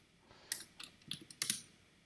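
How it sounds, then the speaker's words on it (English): Keys clatter on a computer keyboard while a short git commit message is typed, a few quick separate bursts of clicks spread across a quiet moment. "you type in the message"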